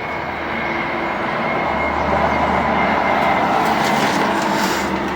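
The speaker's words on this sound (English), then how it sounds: "We've got a train that's about to go past." A train rumbles steadily past an allotment garden, a loud, continuous rolling roar that holds for several seconds with no voices over it.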